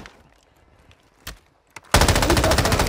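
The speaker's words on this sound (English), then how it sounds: "Shoot it. Like, shoot it all the way. Full auto." A burst of full-auto gunfire erupts after a couple of isolated shots in Call of Duty, a rapid, loud, continuous stream of rounds lasting about a second.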